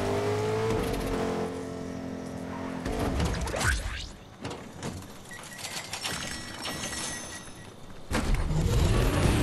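A car drives in the video game Fortnite, its engine revving and shifting loudly with whooshing passes and mechanical clunks, no talk over it.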